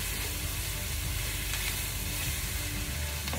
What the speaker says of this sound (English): And now everything is nicely fried and sauteed.